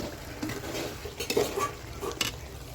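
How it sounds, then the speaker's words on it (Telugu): Brinjal curry simmering and being stirred in a pan for a chapati meal, with soft sizzling under a few scraping spoon strokes and light metallic clinks against the pan, close and moderate in level, no talking. "చూడండి ఎంత బాగా ఉడుకుతుందో వంకాయ కూర"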